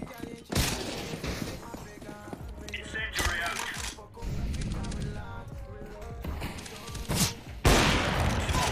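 Dense bursts of rapid gunfire crackle through a busy Counter-Strike game soundtrack with music and voices, loud and nearly continuous with a few sharper blasts.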